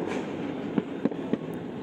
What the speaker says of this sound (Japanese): 花火が上がり始めました